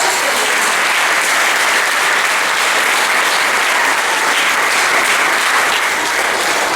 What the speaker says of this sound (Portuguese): Então dê um aplauso ao Senhor